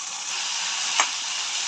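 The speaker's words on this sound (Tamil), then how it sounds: "பாவக்காவை நல்லா எண்ணெயில் வறுத்துக்கணும்." Bitter gourd pieces frying in oil give a steady, even sizzling hiss with one brief tick near the middle, heard up close and without speech.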